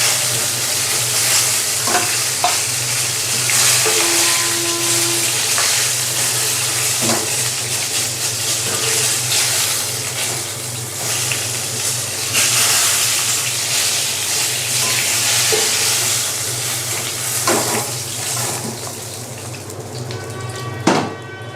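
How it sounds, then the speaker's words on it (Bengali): Pieces of chicken roast fry in hot oil in a pan, a steady loud sizzle and hiss lasting throughout, broken now and then by the clink and scrape of stirring. "বাকি যে চিকেনগুলো ছিল সেগুলো আমি আবার ভাজার জন্য দিয়ে দিলাম"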